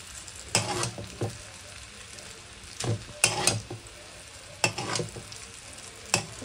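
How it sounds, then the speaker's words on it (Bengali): Peanuts are fried in a wok, giving a soft sizzle with several sharp scraping, rattling stirs at irregular intervals, close by. "এই কড়াইটার মধ্যে একটু ফ্রাই করে দিয়ে দেবো।"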